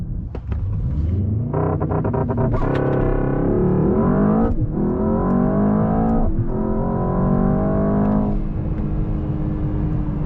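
A 2024 Mercedes-AMG S63 sedan with a V8 hybrid setup and 802 horsepower accelerates hard, its engine rumble climbing through several rising surges broken by brief dips at the gear changes, loud and close with no talk.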